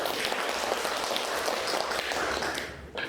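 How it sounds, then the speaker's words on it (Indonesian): An audience applauds a group that has just presented, steady dense clapping from a roomful of people that holds for about three seconds before tapering off. "Kita kasih aplaus."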